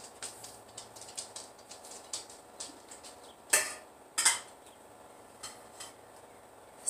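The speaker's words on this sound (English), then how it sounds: "I'm going to add some pasta to this now." Cooked egg noodles go into a pan of mushroom stroganoff with quiet scraping and small clinks, then two sharper utensil clatters in quick succession against a soft background.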